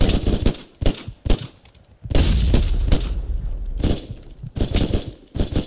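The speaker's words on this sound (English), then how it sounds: "he's in the trench shooting at me" Gunfire in the World War II shooter Hell Let Loose, loud bursts and single shots separated by short pauses, with a sustained heavy volley in the middle, close and booming, with no talk.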